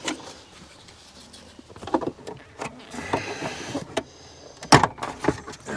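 Plastic clips of an interior door panel on a 2012 Ford F350 popping loose, a series of sharp cracks and snaps, with one loud pop near the end and scattered quieter rattles between.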